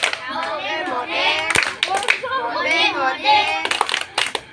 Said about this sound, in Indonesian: mari kita tepuk salut untuk adik-adik yang sudah menjawab